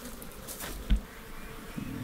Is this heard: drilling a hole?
no